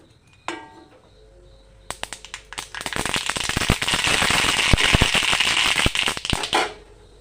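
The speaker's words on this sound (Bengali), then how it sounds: "দুটো লঙ্কা দিয়ে দিলাম লঙ্কাগুলি হালকা ভেজে নিয়েছি সর্ষে পুরন দিয়ে দিলাম" Mustard seeds and chillies hit hot oil with a few sharp pops, then burst into a dense, loud spluttering crackle that fades out abruptly, with no voices.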